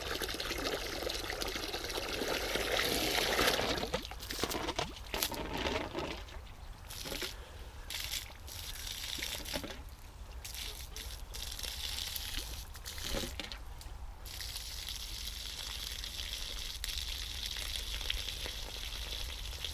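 Water gushes through an old length of hose pipe on a farm supply line, a steady loud rushing and spattering flow that runs continuously throughout with occasional sputters as air and debris clear.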